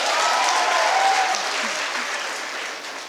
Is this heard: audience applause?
yes